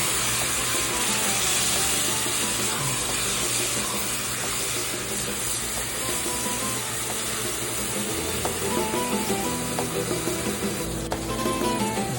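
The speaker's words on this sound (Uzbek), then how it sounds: "Mana navbat bilan pomidor bilan bulg'or qalamsirini qovurib oldik. Endi yaxshilab buni ham qovurib olamiz." Tomato and bell pepper fry in a cooking pot for an Uzbek moshxo'rda soup, a steady, loud sizzle continuing throughout with no talking.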